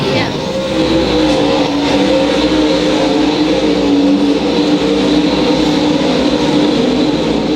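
USMTS modified race cars run side by side at Lakeside Speedway, a loud, continuous engine roar that holds steady throughout, with an announcer talking over it.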